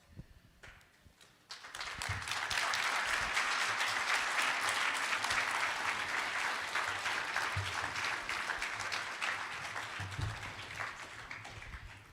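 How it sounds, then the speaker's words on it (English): Loud, sustained applause from a crowd, rising after a quiet start and continuing steadily with dense clapping throughout. "One more round of applause"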